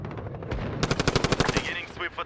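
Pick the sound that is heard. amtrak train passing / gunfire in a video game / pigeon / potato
gunfire in a video game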